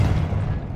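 A Confringo blasting-spell explosion in Hogwarts Legacy, a short, loud, low boom that fades quickly.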